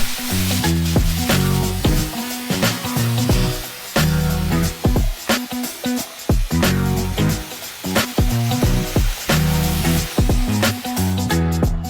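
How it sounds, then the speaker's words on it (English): Water spray rinsing Armor All cleaner off a rear car wheel and tire, a loud, steady hiss that surges and dips as the stream moves across the surface. "So we'll go ahead and rinse off the Armrall off the wheel and tire now"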